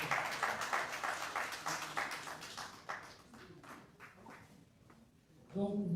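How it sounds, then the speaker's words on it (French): Audience applause at a Senegalese government and teachers' union agreement signing ceremony, scattered clapping that fades over several seconds before a voice starts speaking. "M. Ali Diouf, sous vos applaudissements, s'il vous plaît"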